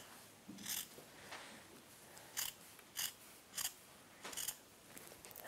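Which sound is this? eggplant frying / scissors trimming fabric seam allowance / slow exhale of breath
scissors trimming fabric seam allowance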